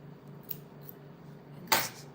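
A single close, sharp snip of scissors cutting through yarn while crocheting a flower, sounding once near the end after a quiet stretch with a faint earlier click.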